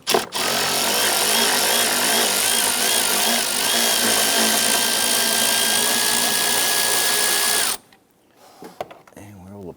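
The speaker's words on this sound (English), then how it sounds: "Using our extension and swivel socket, we're going to go ahead and get to this upper back bolt." A power tool with an extension and swivel socket drives out the upper back bolt on a 2011-2021 Jeep Grand Cherokee 3.6L V6, whirring loud and continuous for about eight seconds, then stopping abruptly into faint clatter.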